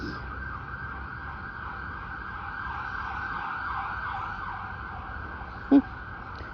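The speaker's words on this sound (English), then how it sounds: "I hear the sirens" A steady siren wail runs throughout over low traffic rumble, fairly distant and constant, with a brief sharp knock near the end.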